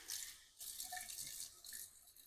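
Cold water runs from a faucet into a bathroom sink filled for soaking a wig, a soft hissing splash that briefly pauses and resumes, quiet and close.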